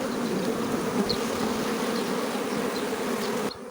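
Honeybees buzz around an opened hive during spring expansion, a close, dense continuous drone with individual bees zipping past, no talking.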